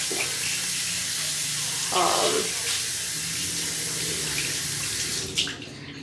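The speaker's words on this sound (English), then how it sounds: "Okay, so now that I'm done, I'm just gonna wash my hands." Water runs from a tap while hands are washed, a steady broadband hiss that fills the whole stretch with a brief stronger splash partway through and a slight shift near the end.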